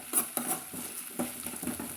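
Onions sautéing in a pan for onion leaf chutney, heard as a soft, close sizzle broken by a few short scraping stirs of a spoon.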